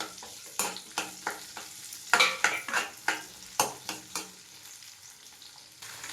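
Onions dropped into a pan of hot ghee and oil sizzle loudly, with repeated close scraping strokes of a spoon stirring them at a steady rhythm and a few metallic clinks against the pan.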